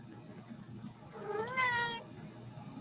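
A house cat lets out one drawn-out, rising and falling meow, fairly close and alone over a faint low room hum.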